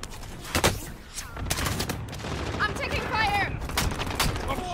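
Gunfire in the game Call of Duty Warzone, rapid repeated shots in bursts with the combat din running throughout and brief voice callouts mixed in.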